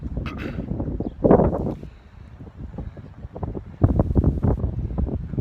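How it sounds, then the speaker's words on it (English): Gusty wind buffets a nearby microphone in low rumbling surges, rising and falling in strong blasts. "I'm holding the phone quite close because it's really windy in the town"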